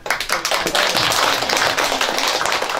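Audience clapping at a Buddhist temple ceremony to welcome a drum troupe, dense and continuous, close and fairly loud for a few seconds with no talking.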